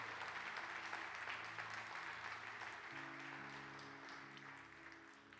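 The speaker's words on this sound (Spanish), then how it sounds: "Dile un aplauso a Jesús," Church congregation applauding during a sermon, a sustained, fairly distant patter of many hands that holds steady throughout, with soft sustained tones underneath from the service.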